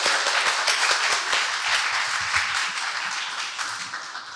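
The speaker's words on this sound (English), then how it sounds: "if you could all join me in giving a very big round of applause to our chargé d'affaires," Audience applause for the chargé d'affaires after a special lecture at the opening of the Busan American Corner, many people clapping briskly and close, starting strong and gradually thinning out.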